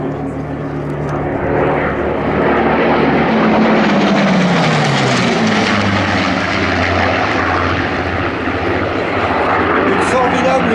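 A Rolls-Royce piston aircraft engine roars past at the 2023 La Ferté-Alais air show, a loud propeller drone rising and falling as the plane sweeps by, with a low throbbing engine note dominating throughout.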